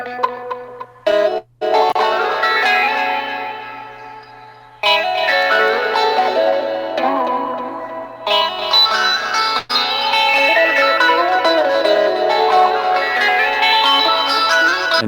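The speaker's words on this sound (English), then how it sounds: "that like filter sweep effect here for this lead kind of dual guitar" Two electric guitars play a harmonized lead, one in each channel, with a sweeping filter effect and heavy reverb. The sound is loud and sustained, with brief gaps where it cuts out.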